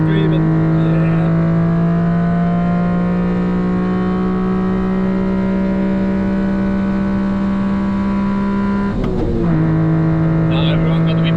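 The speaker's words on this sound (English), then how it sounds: "at least we can listen to the nice ITB intake sound" A Honda Beat's engine with individual throttle body intakes drones loudly from inside the car on the Nürburgring, a steady high-revving tone that dips briefly as the revs shift near the end, with a voice heard faintly.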